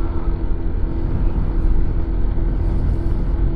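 A Honda PCX160 scooter climbing a steep uphill road, its engine a continuous loud low rumble mixed with heavy wind buffeting, steady throughout.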